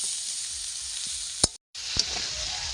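Pointed gourd sizzling in oil in a wok for a Bengali prawn dish, a steady hissing fry with a couple of sharp stirring clicks and a brief dropout midway.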